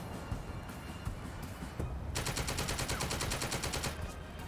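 Machine gun fire in a turn-based strategy video game: rattling, rough bursts at first, then a sustained, rapid, evenly pulsing stream of automatic fire from about halfway on, moderately close, with no talking.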